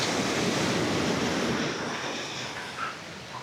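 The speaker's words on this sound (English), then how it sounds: "look, because the big waves, they are stopped by rock" Big sea waves break against natural rocks at a small swimming bay in Paphos, Cyprus, producing a loud, broad wash of surf that eases off slightly, mixed with wind noise.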